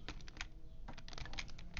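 Computer keyboard keys tapped in quick, irregular bursts while someone plays a truck simulator game, close and fairly quiet over a low steady background hum.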